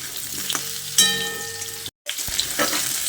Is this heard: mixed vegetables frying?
yes